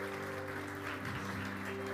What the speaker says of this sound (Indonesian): kita beri tepuk tangan yang meriah buat Tuhan Allah kita